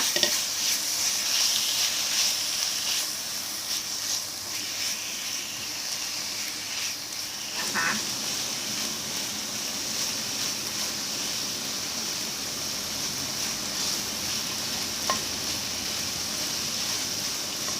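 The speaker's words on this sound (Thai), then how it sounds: "เราจะเคี่ยวไปจนกว่าหมูจะเหลืองนะคะ" Pork simmering and frying in a pan over medium gas heat, a loud, steady, hissing sizzle that runs unbroken, with a brief utensil stir partway through and no one speaking.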